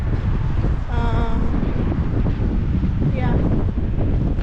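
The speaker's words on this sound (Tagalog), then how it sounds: "Masyadong mahangin. Mahangin masyado yung panahon." Strong typhoon wind in Muscat roars steadily against the microphone, a heavy low buffeting throughout, with a brief voice and a faint whistling tone cutting through.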